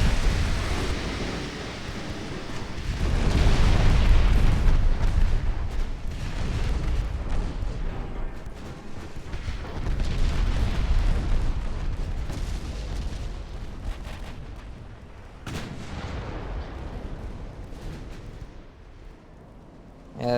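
Heavy naval guns boom repeatedly in Ultimate Admiral: Dreadnoughts, with 1890-era warship hulls trading fire; deep, rumbling salvos swell and fade across a dense, continuous bed of loud gunfire with no talk.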